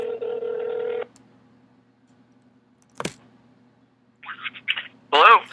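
A telephone rings with a steady tone that stops, then after a pause there is a sharp click as the call is answered, followed by voices starting to talk.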